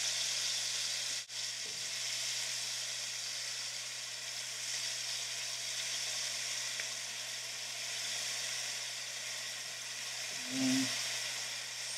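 Brussels sprouts searing in a smoking hot pan with bacon, a steady dense sizzle and hiss that holds evenly throughout, with a brief thud or two of the pan, close by.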